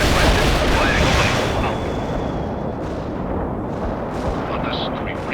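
Artillery strike firing in the Soviet assault mission of the real-time strategy game World in Conflict: a heavy rumbling barrage of booms and blasts that fades into a sustained roar, loud and dense throughout.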